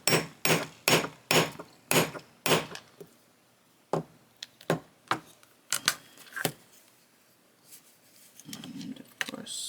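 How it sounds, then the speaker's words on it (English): A hammer strikes a tool to punch a hole into a cork badge holder. The blows are sharp and close, a rapid run of about six, then a sparser irregular series, followed by a soft rustle. "And then you're just going to hammer it."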